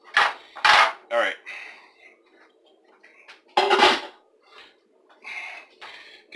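A spatula clatters against a pan while scrambled eggs are being cooked, a few sharp metallic knocks and scrapes in bursts with quiet gaps between, and someone speaks briefly.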